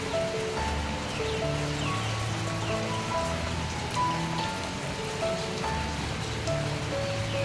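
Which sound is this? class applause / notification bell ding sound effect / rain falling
rain falling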